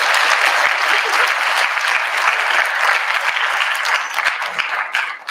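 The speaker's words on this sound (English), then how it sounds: "So let's give her a round of applause for her." Steady, full applause from a large audience fills the hall at Page High School's combined choir, band and orchestra concert, a dense wash of clapping that holds throughout and dips slightly at the end.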